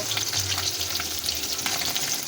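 Hilsa fish frying in hot oil in a pan, a steady close sizzle and crackle running throughout with no talk.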